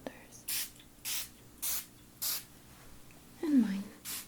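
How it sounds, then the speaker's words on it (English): A spray bottle gives five or six short, close, crisp spritzes in an even rhythm during a quiet ASMR energy-work session, with a soft voice murmuring briefly between the sprays. "I'm just going to spray beyond the shoulders."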